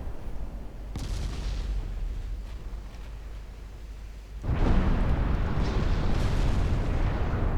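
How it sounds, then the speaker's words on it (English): Naval gunfire and explosions in the warship game Ultimate Admiral Dreadnoughts, a low rumbling barrage with scattered booms that swells into a louder sustained blast, no voices. "There you go, flash fire on one of their heavy cruisers."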